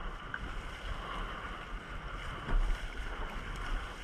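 A small fishing boat pounding through choppy waves off the Saros coast, a steady roar of hull, engine and wind with a heavier slap of water midway, no voices.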